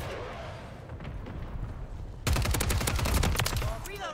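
Rapid automatic gunfire from a Superi 46 submachine gun in the shooter game Modern Warfare III, breaking out loud and sustained halfway through after quieter game ambience, with continuous dense bursts of shots.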